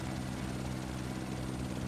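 A helicopter flies in the survival game No One Survived, its rotor and engine making a loud, constant, close thrumming drone with no break.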